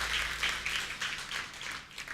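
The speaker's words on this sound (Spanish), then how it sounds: "dale un aplauso al Señor" A church congregation applauding, a dense, fairly close burst of many hands clapping in a continuous patter that tapers slightly toward the end.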